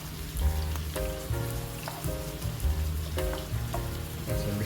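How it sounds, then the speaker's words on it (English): Scallions and sweet peppers fry in a pan as seasoning for Jamaican ackee and saltfish, giving a steady, close sizzle that runs the whole time, with faint tonal sounds in the background. "fry up my seasoning for a few minutes"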